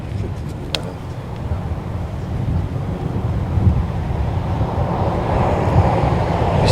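Wind blows across a disc golf course in Gainesville, Florida, as a steady, loud, low rumble buffeting the microphone, swelling slightly over several seconds with no clear voices.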